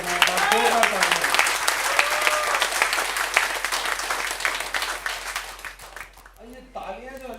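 An audience claps steadily at an RCM business recognition event honoring a star diamond associate, a dense patter of applause with a voice speaking over it, then talk continuing alone at the end.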